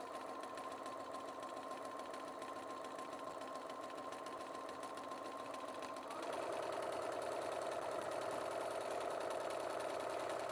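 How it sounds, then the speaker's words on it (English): A sewing machine stitches a strip down the outside of floral quilt blocks, running steadily and alone at close range, its motor pitch rising and growing louder about midway through. "we're just sewing a strip down the outside."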